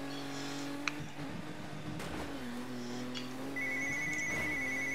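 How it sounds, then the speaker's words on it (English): A mobile phone rings in a quiet room with a steady electronic tone that repeats in short beeping bursts over a low humming background, with no talk. "My phone is ringing."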